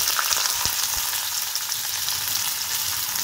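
Food frying in a generous amount of oil in a pan, a dense, steady close sizzle that runs unbroken throughout with faint occasional low knocks beneath.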